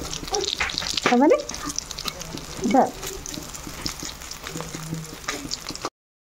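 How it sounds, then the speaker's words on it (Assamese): Food sizzling as it fries crisp in a pan, a steady close hiss with brief louder bursts, under occasional voice, ending abruptly in silence. "এয়া মই ৰঙচুৱাকৈ ভাজি লৈছোঁ"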